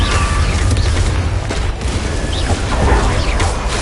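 An Incendio fire spell is cast in Hogwarts Legacy, a loud whooshing roar of flame with rumbling booms that stays dense and full throughout.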